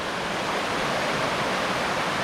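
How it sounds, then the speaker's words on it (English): A waterfall at Blue Knob State Park gives a steady, close, full roar of rushing water that stays even throughout with no other sounds. "I gotta walk over that waterfall."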